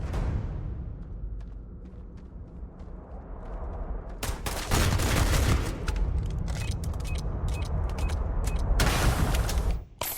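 Rapid hip-fired gunshots from a Starfield firefight ring out in dense bursts after a quieter rumbling stretch, loud and close, with almost no talk.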